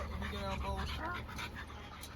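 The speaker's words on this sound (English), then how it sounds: "She sound like a big ass dog." A big dog pants and whimpers close by, while people talk over the sound.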